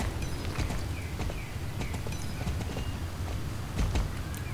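Horse hooves clip-clopping at a walk in the Star Stable Online horse-riding game, a steady run of soft, close hoof beats over low ambient game noise, with faint bird chirps.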